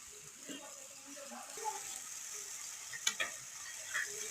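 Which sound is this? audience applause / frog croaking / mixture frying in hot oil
mixture frying in hot oil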